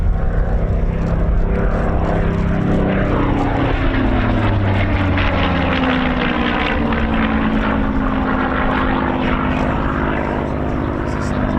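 A Hawker Hurricane propeller fighter flies a Battle of Britain Memorial Flight display at the RAF Cosford Air Show 2022. Its loud, continuous engine roar shifts in pitch as the plane sweeps past.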